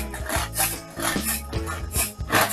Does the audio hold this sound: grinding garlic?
yes